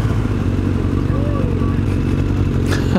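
Motorcycles ride through the town of Arnsberg, Germany, with a loud, steady engine drone close by and a rider talking over it.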